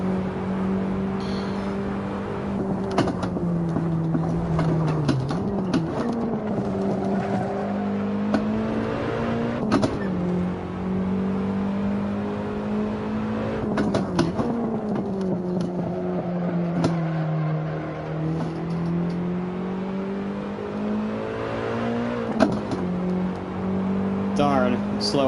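A race car laps a track in Assetto Corsa, its engine droning steadily and rising and falling through gear changes and corners, with occasional tire noise and someone talking over it.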